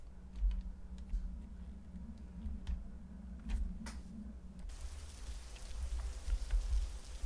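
Steady rain patter falls through a video game world, a dense soft hiss of drops with scattered sharper ticks, with no voices.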